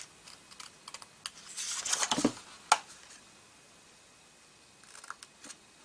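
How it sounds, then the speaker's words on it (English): Scissors cutting a paper rectangle along a score line for a one-sheet treat bag, a short run of close crisp snips building to a louder cut, then sparse quiet clicks. "So I'm just going to cut along that score line."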